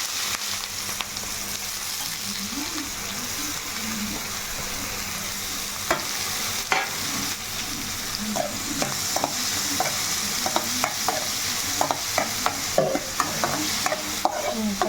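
Sliced onions and green chillies fry in hot oil for a gongura chicken curry, a continuous close sizzle under irregular spatula stirs and scrapes that grow more frequent toward the end, with no talking.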